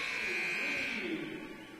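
An end-of-quarter buzzer sounds at a girls' 1A state championship basketball quarterfinal, a steady electronic buzz held for nearly two seconds and fading slightly, with arena crowd noise underneath.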